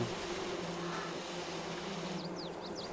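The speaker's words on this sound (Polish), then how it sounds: "Pszczółki tu biegają." Bees buzz around a rural plot with chickens nearby, a faint, steady insect hum under a quiet outdoor background, with brief birdlike chirps toward the end.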